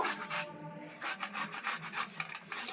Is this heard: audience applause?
no